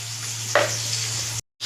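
Boiled eggs frying in oil with salt and turmeric give off a steady, moderate sizzle along with a soft stirring scrape, then cut out abruptly to a brief silence.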